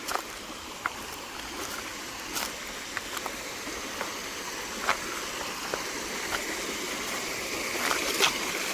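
A clear freshwater stream flowing steadily at a bathing spot, a constant rushing babble with occasional small splashes and clicks, fairly close and without talk.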